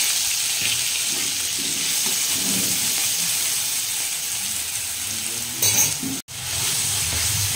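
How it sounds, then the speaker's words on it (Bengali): Ginger and green chilli paste sizzles loudly in hot oil after a five-spice and dried red chilli tempering, a strong continuous frying hiss with stirring scrapes and a brief cut near the end. "এবার আমি একটু আদা আর কাঁচা লঙ্কা পেস্ট দিয়ে দিলাম"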